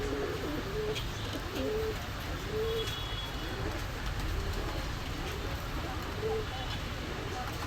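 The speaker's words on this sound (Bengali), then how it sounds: "দর্শক এই আর এক পেয়ার কবুতর, টেডি কবুতর" Pakistani teddy pigeons at a bird shop coo in repeated soft, rolling phrases, a few seconds apart, over a steady hiss of background noise.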